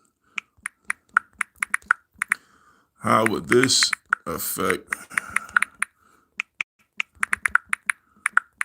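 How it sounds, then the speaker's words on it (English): Fingers tap out a question on a computer keyboard in quick bursts of crisp clicks, pausing while someone speaks briefly in the middle, then the typing resumes. "I'm typing a question in the chat here, guys."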